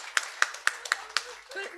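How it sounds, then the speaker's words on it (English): A handful of sparse, uneven claps from a small audience at a conference session on gender-responsive African food systems, about five distinct hand claps spaced across under two seconds, fairly close and thin rather than a full ovation. "let's give her a good applause"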